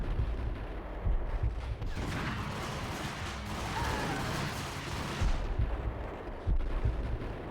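Sustained gunfire during slowed bullet time in Max Payne, a heavy, dense barrage of shots and booms rolling continuously throughout, loud and close.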